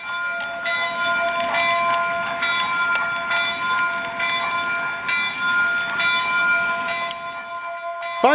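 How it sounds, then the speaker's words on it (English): Steam locomotive 2816 moves through a rail yard in a train-simulation game. A continuous rolling rumble carries steady tonal hum and periodic clanks and bell-like rings throughout. "2816 heads to the back corner of the yard to top her tender off"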